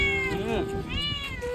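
A cat meows twice in quick succession, clear and close, with rising and falling tonal cries over light background noise, on a rainy evening during an outdoor food outing.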